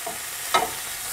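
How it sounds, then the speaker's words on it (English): Chopped endive sautés in a hot pan for a southern Italian fava bean soup, a steady soft sizzle with one brief scrape of stirring partway through. "The endive, I'm going to say, is sauteed up very nicely."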